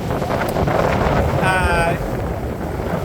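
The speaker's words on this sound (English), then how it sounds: "it's blowing a gale" A strong gale buffets a sailboat at sea on a passage from Great Inagua toward Key West, a steady, loud roar of wind noise pressing on the microphone throughout, with a brief higher whistling tone midway.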